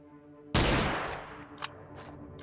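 A single loud gunshot in a video game cracks out and rings down slowly, followed by a couple of faint clicks.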